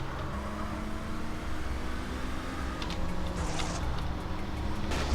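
A car engine hums steadily in GTA San Andreas, a continuous droning motor with a slight rise in revs toward the end, heard alone without speech.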